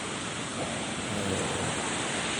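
Ocean surf breaks on a shore as a constant broadband roar and wash, loud and close, with wind noise mixed in and no voices.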